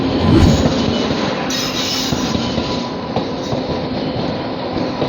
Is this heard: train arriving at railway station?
yes